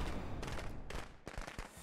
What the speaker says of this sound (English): the firecracker's about to go off